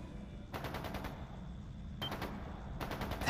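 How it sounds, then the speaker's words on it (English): Three short bursts of rapid automatic gunfire in the video game Legend of Heroes: Trails into Reverie, crisp and fairly close, separated by brief pauses over a quiet background. "It's gunfire. And not just gunfire either."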